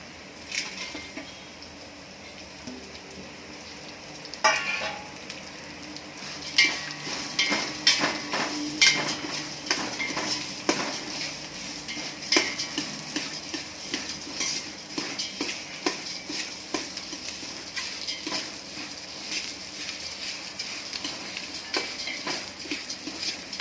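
Basmati rice with chopped cashews, almonds and raisins roasts in a pan, a metal spoon scraping and clinking against it in irregular bursts over a faint dry sizzle, close up.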